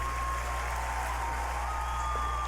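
An audience applauds after a performance, a steady, even wash of clapping at a distance with a low hum underneath.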